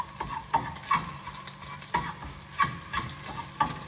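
Eggs cooking in a pan give a soft sizzle beneath repeated scraping and tapping strokes of a utensil, several close, rhythmic stirs in quick succession, with no speech.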